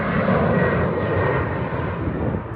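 A loud, steady roar of an airliner passing overhead, broad and rushing, fading slightly at the end.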